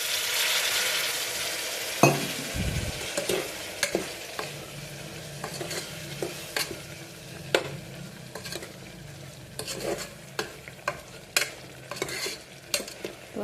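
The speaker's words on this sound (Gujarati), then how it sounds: "ચટણી પાકી જાય ત્યાં સુધી આપણે હલાવતો રહેવાનું છે." Masala for a cluster bean curry frying in a pan while being stirred, with a soft continuous sizzle broken by repeated sharp scraping and tapping strokes of the spoon at close range.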